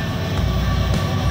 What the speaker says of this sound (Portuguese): Atualmente, as locomotivas Dash tracionam quase todos os trens.